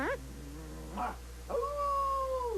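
A dog whimpers and yips, then lets out a sustained rising howl. The sound is clear and mid-distance, set against a faint steady hum.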